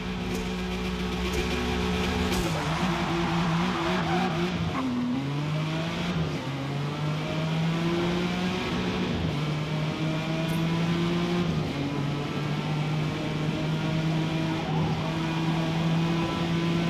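A muscle car engine roars steadily in Forza Motorsport, holding a loud, continuous drone with repeated rises and dips in pitch as it shifts and revs through the whole stretch.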